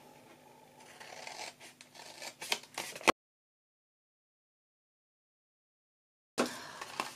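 A short run of close, crisp scissor snips and rustles through a paper panel, then about three seconds of dead silence before the cutting briefly resumes.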